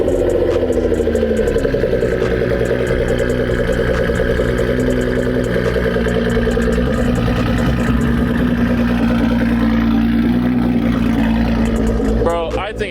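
A Nissan 370z with a swapped VR30 engine idles steadily and fairly quietly with a low, even rumble, while people talk nearby over it.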